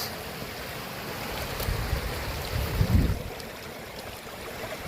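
Outdoor stream water flows in a continuous steady rush, with a brief swell of louder splashing near the middle and faint wind noise.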